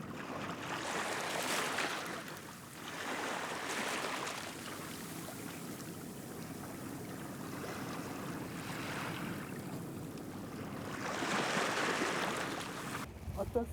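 Sea waves wash and crash against rocks on the coast at Bangeojin, Ulsan, in broad surging swells that rise and fall, with wind noise and a faint voice in the background.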